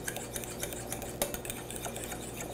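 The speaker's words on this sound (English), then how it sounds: "you want to give this about 3 minutes of stirring" Mayonnaise is stirred into a salmon salad in a bowl: a steady, close scraping and swishing with soft clinks, continuing without pause.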